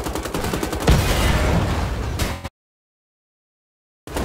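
Gunfire from a German weapon in the shooter game Wolfenstein: The Old Blood, a dense run of rapid shots with one heavier blast, loud and close, breaking off abruptly into silence before resuming.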